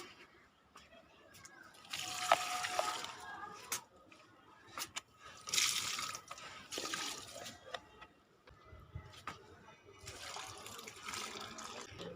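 Water is poured by hand onto potted garden plants in three close splashing bursts separated by quieter pauses, with no talk over the pours.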